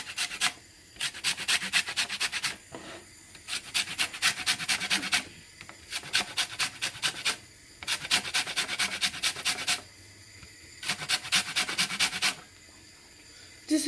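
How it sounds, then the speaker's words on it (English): Two oranges grated by hand for a homemade orange halwa, the peel rasping against a grater in quick repeated bursts of strokes, each burst lasting about a second or two, with short pauses between, close and clear. "Now we're grating."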